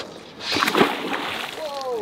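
A fish caught far offshore near Panama City, Florida, is dropped back into the sea with a single close splash and slosh, followed by fainter water movement.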